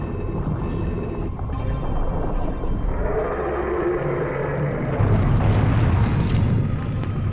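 A fire roaring in a torch-lit basin in the game Legacy of Kain: Soul Reaver, a dense continuous rumbling whoosh that swells and thickens partway through, with faint high crackles above it.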